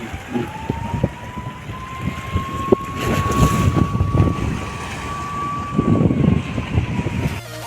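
Steady wind rushes and buffets the microphone at a seaside jetty, with a faint continuous tone running through it and no one speaking.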